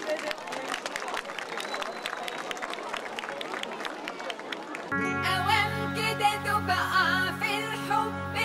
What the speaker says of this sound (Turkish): Yine kuvvetli alkışlarınızla